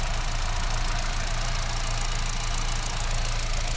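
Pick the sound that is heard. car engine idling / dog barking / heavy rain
car engine idling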